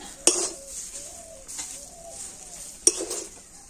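A spoon stirs a fried spice and coriander-leaf filling in a pan, giving two sharp metallic clinks about two and a half seconds apart over soft scraping and a faint sizzle, with no talking.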